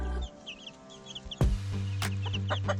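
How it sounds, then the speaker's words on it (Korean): Baby chicks on a farm cheep in short, high bursts while pecking at food, with some louder clucks from grown chickens partway through. "하나라도 더 먹겠다고 바쁘게 움직이는 귀여운 병아리들."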